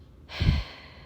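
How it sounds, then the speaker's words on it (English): A slow, soft breath drawn in, rising to a brief louder swell in the middle before easing off, close and alone with no talking. "Breathe in."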